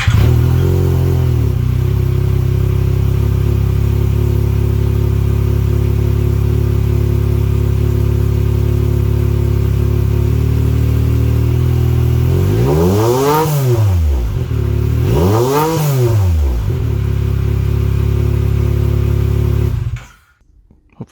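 A Yamaha YXZ engine with a homemade DIY exhaust idles loudly and close with a steady drone, then gives two quick rev blips that rise and fall before cutting off at the end.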